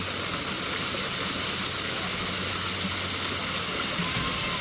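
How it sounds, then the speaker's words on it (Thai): A small waterfall at a shrine pours steadily, a continuous broad hiss of falling water heard at a moderate distance, unchanging throughout with no clear talk over it. "นี่น้ำตก น้ำตกเล็กๆ เนี่ย น่ารักไม่ต้องใหญ่มาก"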